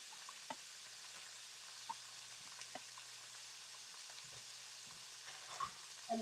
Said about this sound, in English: Then I'm going to throw in my garlic.